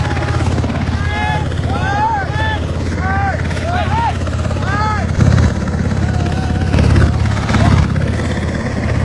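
A US Seahawk helicopter thumps and whines steadily at an airfield, its rotor drone loud throughout while people talk over it.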